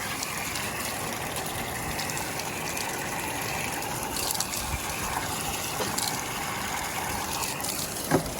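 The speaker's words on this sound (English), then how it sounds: "Wash those riffles off." Water gushes steadily over the riffles of a sluice box during gold prospecting on the Yuba River, a close, continuous rushing wash with light splashes and a few faint knocks.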